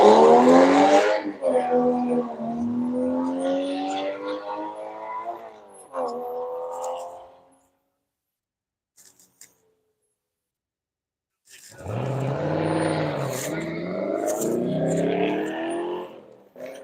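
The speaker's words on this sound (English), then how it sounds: "Oh, we got the Dubler Camaro taking off." A Chevrolet Camaro race car pulls away on a Road Atlanta track session, a loud engine roar with tire noise that fades out, then returns as another strong car passes.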